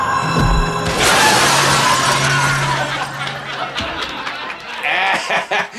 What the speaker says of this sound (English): the windows were made of breakaway glass